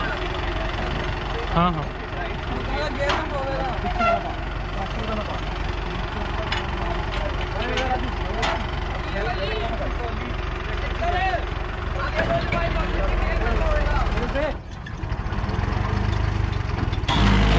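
A Mahindra Arjun 605 tractor engine chugs and knocks steadily in gear while pulling a stuck trolley, a close, continuous mechanical drone with people talking over it.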